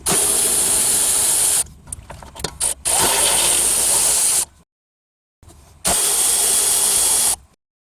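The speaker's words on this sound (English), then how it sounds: "I have a 1/2-inch electric socket tool, so maybe I could get the bolts off" A 1/2-inch electric socket tool removes rear wheel hub bolts on a Scion tC / Toyota Celica, giving loud sustained whirring bursts of a few seconds each with brief pauses and silent gaps between them.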